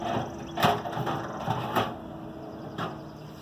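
Wrench working a rusty clamp bolt loose, giving a few sharp metallic clicks and ratcheting bursts over a low mechanical background, close by with no talk.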